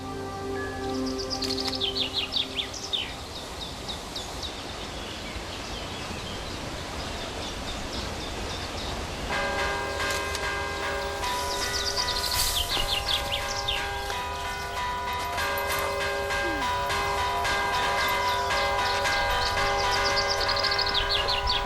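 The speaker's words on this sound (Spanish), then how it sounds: "Villavante celebra todos los años un encuentro de campaneros que compiten en este arte antiguo de tocar las campanas" Church bells ring out in the village of Villavante, home to a yearly bell-ringers' contest, with several tolling strikes joining in partway through over outdoor ambience and birdsong.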